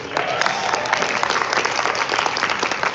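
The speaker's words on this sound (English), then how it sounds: "How about a round of applause for the first question?" An audience at a Q&A panel applauds, a dense wash of many hands clapping at a steady level throughout.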